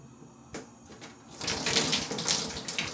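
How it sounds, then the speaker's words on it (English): Water poured from a bucket rinses something off during household cleaning, starting with a few soft splashes and then a loud, steady rush of pouring and splattering water close by. "I've got my bucket to try and rinse this off."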